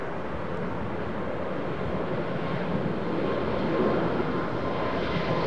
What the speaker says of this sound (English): A220 Airbus